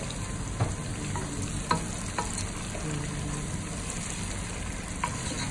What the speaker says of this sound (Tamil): கருக்க விடாமல் கரெக்டாக அந்த டீஹைட்ரேட் ஆகி வெங்காயம் லேசாக ப்ரௌன் ஆகிற வரைக்கும் வதக்கிக்கோங்க.